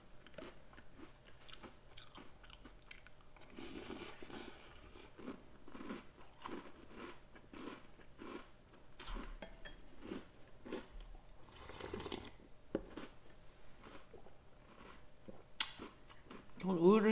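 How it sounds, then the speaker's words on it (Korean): Crunchy chewing of Oreo O's cereal eaten dry, without milk, close to the mouth, with a steady run of small crisp bites and crackles throughout and a few louder crunches near the end. "얘를 내가 입에서 씹잖아. 그러면 이 아삭, 바스락, 바스락 소리가 귀에 울린다?"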